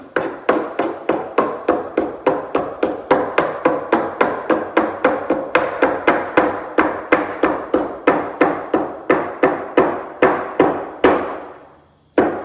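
A dough scraper chops through rolled struffoli dough on a board, a rapid, even series of sharp knocks, about two to three per second, close and loud, with no talking.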